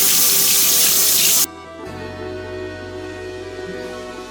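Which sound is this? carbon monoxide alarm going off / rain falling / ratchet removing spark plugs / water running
water running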